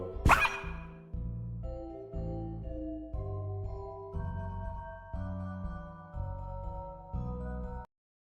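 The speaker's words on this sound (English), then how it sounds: "Dog comes back." A single short, sharp dog bark in a video game, heard at the very start. A steady stepped melody of game music follows and runs on alone.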